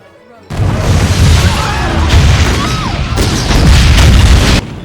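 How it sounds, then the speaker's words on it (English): Heavy explosions from a film battle scene burst in loud, sustained booms with rumbling crackle and debris, one continuous roar broken by a brief shift mid-way, cut off abruptly near the end. "Oh, fireworks! Lovely!"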